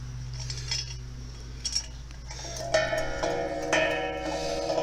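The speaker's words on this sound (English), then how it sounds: "wonderful wind chime," A handmade wind chime hanging on a garden arbor at a 1905 cottage rings with several mellow, deep metallic tones that strike irregularly and sustain over faint background noise.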